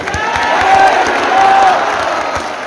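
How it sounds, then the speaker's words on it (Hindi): A large crowd of devotees at a Bageshwar Dham religious gathering claps loudly with a roaring, cheering swell, sustained and close throughout; no distinct chanted words stand out above the noise. "जोरदार ताली बजाकर जय श्री राम बोलिएगा।"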